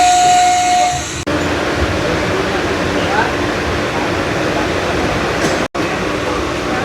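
A train pulls into Nalhati Junction in Birbhum district at night, a short horn tone at the start giving way to a loud, steady rush of wheel and brake noise with hissing throughout.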